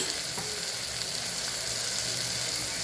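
Turmeric, coriander-cumin powder, red chilli powder, salt and sugar are being sautéed and stirred into Kathiawadi bitter gourd curry in a pressure cooker, giving a steady, close sizzle that holds level throughout with no talking.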